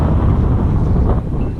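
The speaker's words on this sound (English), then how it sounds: "But yes, a very windy day as well." Strong gusting wind on a nature reserve in February buffets the microphone with a loud, rumbling low roar that continues throughout.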